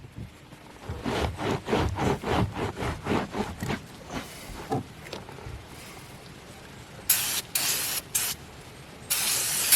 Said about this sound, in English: Just clean it with some brake cleaner.